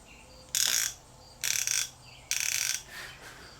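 Duratech 90-tooth 3/8-inch ratchet, sounding loud, coarse and rough, clicks through four short, close bursts of rapid ratcheting separated by brief pauses, with no voices.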